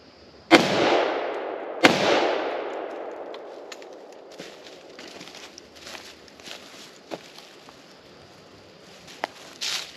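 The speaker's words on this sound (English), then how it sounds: "This 20-inch barrel A2 platform, M855 green tips, the current military load. 2 shots." Two rifle shots from a 20-inch A2-platform rifle firing M855 green-tip rounds, loud sharp cracks about a second apart, each followed by a long outdoor echo, with faint rustling and small knocks afterward.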